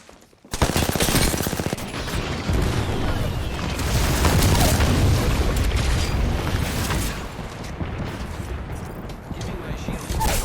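Continuous video game combat with dense machine-gun fire and booming explosions from a grenade, loud and sustained throughout, with a voice speaking over the din.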